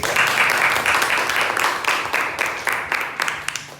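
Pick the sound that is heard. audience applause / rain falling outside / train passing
audience applause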